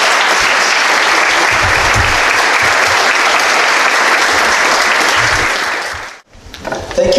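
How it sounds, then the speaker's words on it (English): Audience at a high school academic banquet applauds students, a loud, dense, steady round of clapping from a large room that holds for several seconds before stopping abruptly, followed by faint voices. "All right, can we give one more round of applause for these amazing students?"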